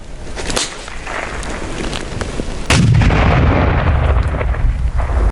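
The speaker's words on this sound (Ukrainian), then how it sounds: "Остання вправа цього разу метання гранати." A hand grenade goes off during a military training exercise: one loud, close blast breaks through outdoor background noise and is followed by a heavy, sustained low rumble.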